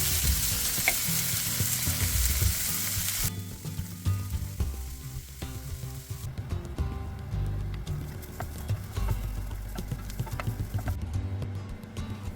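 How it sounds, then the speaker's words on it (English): Onions sizzle and crackle steadily in a hot pan, with occasional scraping as they are stirred. "fry the onions first until they're golden brown and translucent"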